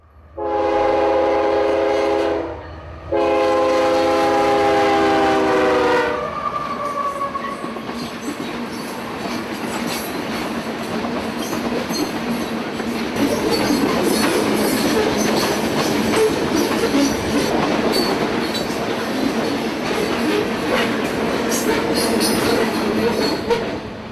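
Two long, loud blasts of a freight train horn, then the heavy rumble and clatter of a sulfur train rolling steadily past close by.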